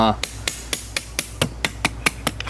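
Blunt chisel struck with a hammer to bend lock tabs on a Harley Shovelhead transmission during main seal replacement: about ten sharp, evenly spaced metallic taps, close and clear with no talk.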